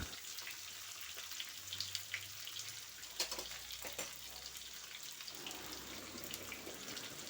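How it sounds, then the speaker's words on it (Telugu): Pumpkin pieces frying in oil in a home kitchen pan for a Telugu-style pumpkin curry, giving a steady, faint sizzle with occasional soft clinks and stirring scrapes, no voices. "ఈ ముక్కలు నూనెలో కాసేపు వేగాలి"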